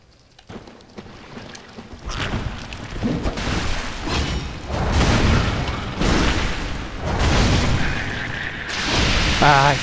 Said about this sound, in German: Alter, natürlich explodieren die doch.